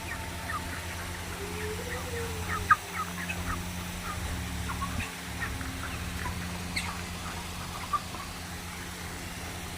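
A dense chorus of broiler chickens on a farm cheeps and clucks continuously at a moderate distance, with a steady low mechanical hum running underneath.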